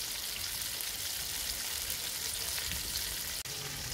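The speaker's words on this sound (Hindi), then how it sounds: "पहला 1 मिनट हम इसको तेज़ आंच में पकाएंगे।" Chicken fries on high heat in a steady, loud sizzle that crackles continuously and fills the whole span, broken only by a brief dropout near the end.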